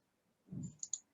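A computer mouse click pressing an edit button: a soft thump followed by two quick, close, crisp clicks, quiet and isolated.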